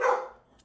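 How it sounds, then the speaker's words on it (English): A single dog bark sounds from a distance, echoing briefly and fading into quiet. "you might hear the dogs in the background"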